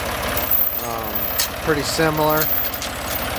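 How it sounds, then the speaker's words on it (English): A Ford 335 industrial tractor engine, the same type as a Ford 3000, idles steadily nearby with a low, even chug beneath someone talking over it. "It is a 335 Ford tractor, so this is the same thing as like a 3000 Ford."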